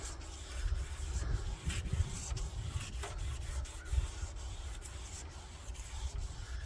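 Hand sanding scrubs paint off a Jeep window frame in quiet, repeated rasping strokes, an uneven rhythm of rubbing with no voice over it.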